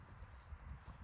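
Soft, steady clip-clop of a horse's hooves walking on footing in a riding arena, a low muffled rhythm of repeated thuds with no voices over it.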